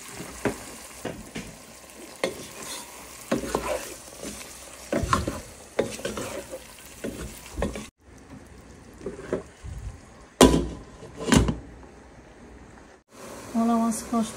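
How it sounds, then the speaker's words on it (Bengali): Small mola fish fry in spice paste in a pan with red amaranth greens, giving a steady sizzle broken by scraping stirs and clatter, with a brief quiet break partway through. "মলা মাছ কষানো শেষ"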